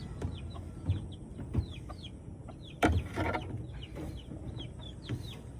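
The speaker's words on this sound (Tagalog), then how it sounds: "Kain na kayo mga manok." A flock of chickens clucks and chirps repeatedly at close range while being fed, with soft scratching and pecking noises beneath the busy calls.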